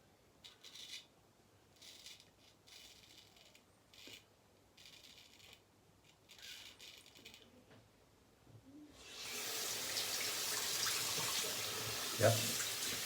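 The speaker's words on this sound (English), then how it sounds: "The lather rinses off the blade just the way it should" Tap water running over a razor blade to rinse off shaving lather during a shave, a close steady splashing stream that starts after a quiet stretch of faint handling sounds and continues to the end.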